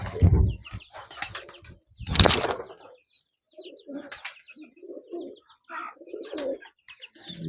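Giribaz pigeons on a pigeon farm coo and call, with bursts of wing flapping and several overlapping bird sounds close by, loud at first and then lighter, scattered calls.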